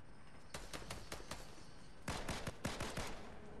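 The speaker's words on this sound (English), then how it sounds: "I heard shooting still" Gunfire in Fortnite: several bursts of rapid shots at a distance, quiet, with a steady run early on and a denser volley near the end.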